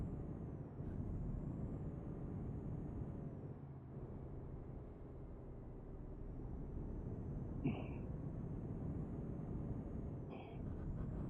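A truck driven on the road with a steady low engine drone, brief hiss-like bursts near the end, distant and even throughout, with no talking.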